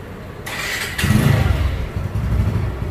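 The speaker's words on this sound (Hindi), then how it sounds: "गाड़ी स्टार्ट करके साउंड सुनते भी है" A TVS Apache motorcycle engine, a 2014 model after an overhaul, cranks and catches, then idles with a rough, close, steady rumble.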